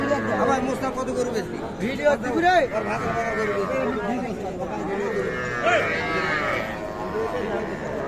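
Heifer and bull calves at a busy cattle market in Aftabganj, Dinajpur, give occasional low moos amid a constant din of crowd chatter, while someone talks close by throughout.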